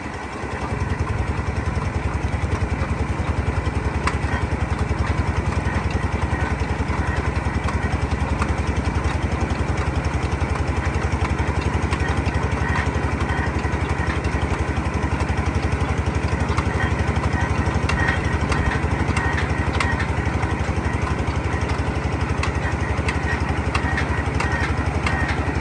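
A well drilling machine's engine runs steadily and loudly throughout while boring a second well, a continuous close mechanical drone with no pauses.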